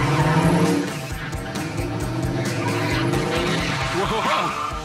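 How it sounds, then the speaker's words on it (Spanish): Tires of a 1972 De Tomaso Pantera skid and squeal as the car accelerates, with a loud engine roar throughout and rising screechy tones near the end, under people talking. "Los neumáticos no se agarran."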